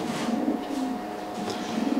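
Soft, low pigeon cooing in a few rolling phrases over a steady background hum, fairly close.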